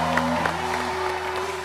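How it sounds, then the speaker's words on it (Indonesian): A studio audience on an Indonesian TV comedy show applauds in a steady, dense wash of clapping that continues briefly under a sustained musical tone. "Tepuk tangan buat Roy Kiyose."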